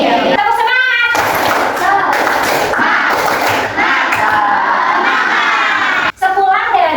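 A classroom of children shouts a spirited clapping chant together, loud rhythmic voices and claps filling the room continuously, with a short pause before the chant picks up again.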